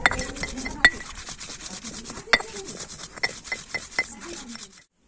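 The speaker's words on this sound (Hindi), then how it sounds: "ये मेथी दाना भी डाल देंगे। तो अब अच्छे से पीस लेंगे" Garlic, curry leaves and fenugreek seeds are ground on a grinding stone, a rhythmic scraping rub with occasional sharp clinks, close up, ending in silence.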